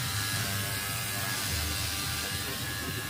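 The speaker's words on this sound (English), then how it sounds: "We're going to try the roof." A Rock and Rocker portable pressure washer sprays water across a car roof, giving a steady, close hiss with a buzzing pump underneath that holds level and unbroken throughout.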